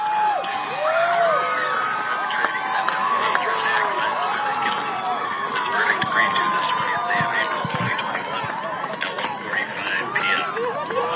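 A crowd reacting outdoors to court verdicts, a dense, sustained roar of cheering, shouting and whistling voices, steady and loud throughout, with many overlapping calls.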